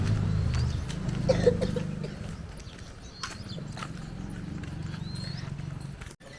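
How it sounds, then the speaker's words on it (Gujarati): Hooves clop steadily on hard ground as cows walk one after another out of a village cowshed at moderate distance, with faint outdoor ambience and an occasional distant bird call. "આ ગૌશાળામાં જો ગાયો એ એક પછી એક બહાર આવે છે"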